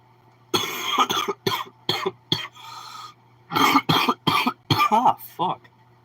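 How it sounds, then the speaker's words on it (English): A person coughs in a series of short harsh bursts mixed with throat clearing, close and loud, with pauses between the fits. "Every time I do that and a little bit of phlegm comes out, I feel like I'm gonna cough up blood."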